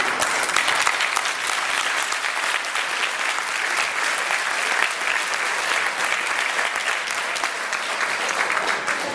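A concert audience applauds continuously, a loud, dense, even roar of many hands clapping that fills the whole stretch without pause.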